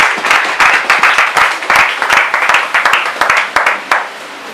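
A church congregation claps together loudly in a dense, rhythmic burst that fades out toward the end, with a few voices mixed in.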